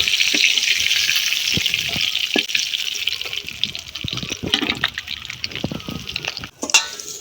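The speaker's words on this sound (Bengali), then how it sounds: "দুই পাশটাকে ভালো করে ভাজিয়ে নিচ্ছি" Taki fish fries in a pan with a loud, continuous hiss and bubbling oil, broken by scattered taps and pressing clunks near the pan. The sizzle fades slightly toward the end, and no one speaks.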